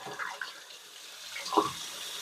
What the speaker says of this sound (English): then you're going to want to run warm water.